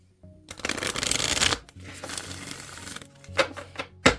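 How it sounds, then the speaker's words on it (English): A deck of playing cards is shuffled up close: a long riffling flutter, a pause, then a second riffle and a few sharp taps as the cards are squared, with no talking. "Let's shuffle this deck real quick."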